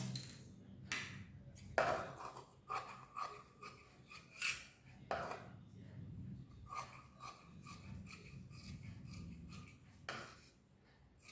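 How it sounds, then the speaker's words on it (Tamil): Scissors cut through blouse fabric pieces in quick snips, crisp irregular clips in short bursts with brief pauses, soft and close in a quiet room, no speech. "இப்போ இந்த 2 பீஸையும் கட் பண்ணிக்கலாம்."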